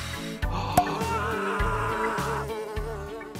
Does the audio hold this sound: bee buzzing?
yes